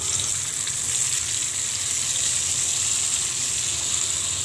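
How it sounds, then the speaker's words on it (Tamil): Leftover vaala dried fish frying in oil, a steady dense sizzle with bright crackling that holds evenly loud and close throughout, no voices. "நான் இன்றைக்கி மீதி இதில் இருக்க எண்ணெயில் மீதியை பொரித்து எடுத்துடுறேன்"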